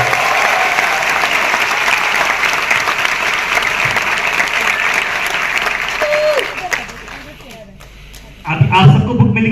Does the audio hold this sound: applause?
yes